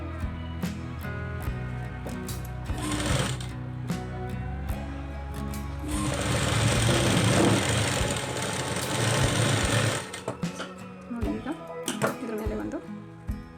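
A sewing machine runs a lock stitch along a plain blouse, its motor whirring steadily in bursts that rise in the middle and stop, with someone talking over it.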